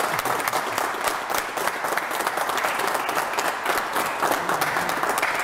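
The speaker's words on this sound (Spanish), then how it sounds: "se merece entonces por lo menos un aplauso" Steady, full applause from a studio audience during a local news broadcast fills the stretch alone, even and sustained.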